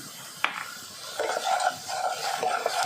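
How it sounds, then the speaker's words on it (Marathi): A spoon stirs salt and red chilli powder into browned onions in a pan, a soft scraping and faint sizzle with one sharp clink at the start. "छान असं हे मिक्स करून घ्यायचं आहे"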